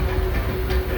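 Disneyland Railroad steam train pulled by the C.K. Holliday rolling along the rails near New Orleans Square Station, a steady close rumble with a sustained tonal hum and faint rail clatter.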